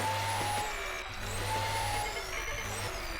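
A vacuum tool whirs steadily in the video game Ctrl Alt Ego, a continuous mechanical drone with a high whine layered over low, pulsing game tones, loud and close throughout.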